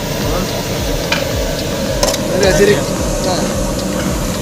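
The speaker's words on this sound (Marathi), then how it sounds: "लसण फ्राय पूर्ण असा लसण म्हणजे आपला मसाला जे टाकलेला आहे मसाला असं हलवून चालू ठेवून" Garlic and masala frying in a pan for a Vidarbha-style brinjal (vangyachi bhaji) dish, a steady soft sizzle with occasional stirring clinks, while someone talks over it.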